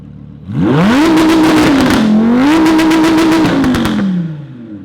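A supercharged Audi R8 with a straight-pipe exhaust revs hard and loud, climbing from idle, dipping slightly, then surging again and holding at the rev limiter before dropping back, close by with no talking.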